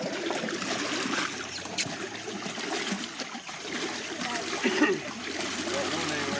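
A paddle boat is paddled through water, with close, continuous splashing and churning and intermittent heavier splashes throughout.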